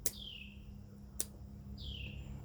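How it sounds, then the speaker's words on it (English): Birds outside a back deck give sharp, brief chirps, two descending calls separated by a crisp click, fairly close over a soft steady outdoor hum. "enjoying the birds"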